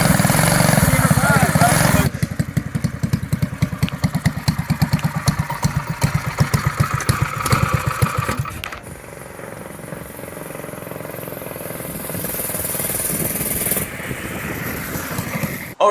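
A homemade gas scooter with a loose, slipping clutch starts with a loud engine roar, then settles into a rapid, pulsing small-engine chug that later drops to a quieter steady idle, with a final loud burst at the end.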